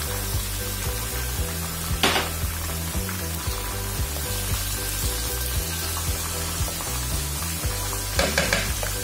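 Tomatoes sizzle and fry in a pan with ginger-garlic paste, a steady hiss under low music-like tones, with a couple of louder stirring scrapes near the start and end; no talking.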